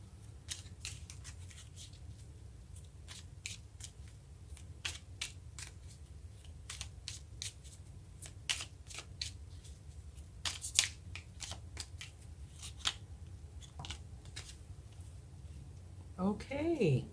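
Tarot cards being shuffled and handled in short, crisp riffling bursts that repeat irregularly, close and fairly quiet, with a faint low background hum throughout.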